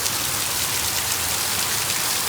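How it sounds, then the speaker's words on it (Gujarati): Heavy monsoon rain pours steadily outdoors on a farm, a dense, loud, unbroken hiss of drops hitting surfaces close by, with no voices. "તો જો આ લગભગ છેલ્લી અડધી કલાકથી આવો ને આવો વરસે જો."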